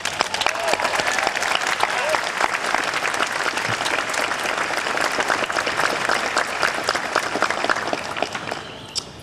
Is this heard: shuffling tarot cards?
no